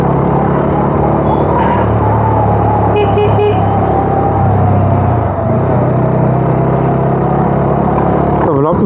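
A motorcycle ridden at 40-50 km/h on a monsoon ride through Darjeeling district, heard from the rider's helmet: a loud continuous drone of engine and wind rush, with a brief horn-like toot near the middle.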